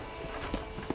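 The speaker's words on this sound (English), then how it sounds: "I picked out a fine horse for you." Horse hooves clip-clop at a walk in the western video game Red Dead Redemption, a few soft irregular knocks over a steady background hum.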